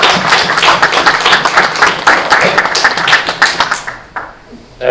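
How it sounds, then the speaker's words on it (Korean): Loud, dense audience clapping fills a hall at a 2022 New Year gathering of the Christian Council of Korea, honouring two pastors; the applause holds for about four seconds, then thins out and fades. "우리 송태선 목사님 그리고 소강성 목사님께 박수 한번 크게 보내주십시오"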